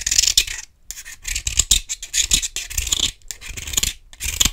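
A knife blade scrapes the coating off the metal base of a JBL Clip 4 speaker in short, rasping strokes, close and loud, with brief pauses between bursts.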